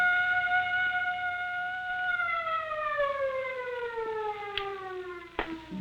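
A loud prison siren drones at a steady pitch, then slowly winds down as it is switched off, with a couple of sharp knocks near the end.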